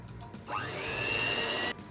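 An electric mixer whips Nutella whipped cream at low speed, starting with a sudden whine that holds a steady motor hum for over a second before cutting off abruptly, close and alone.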